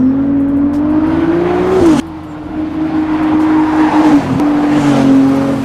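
A turbocharged V6 Ferrari 296 GTB engine revs hard and steady toward 8,500 RPM, a high droning note that dips briefly and climbs again, loud and close with no voices.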